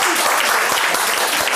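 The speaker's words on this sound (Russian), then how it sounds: "Киль Хавал, ваши аплодисменты!" A studio audience on a Russian television show applauds in a dense, steady burst of clapping that sounds loud and close.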